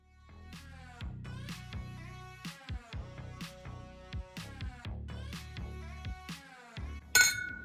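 Glasses clinking together in a celebratory toast, following a session of making eco-friendly bath bomb tea bags. A series of bright clinks and taps plays over about seven seconds, ending in one louder clink.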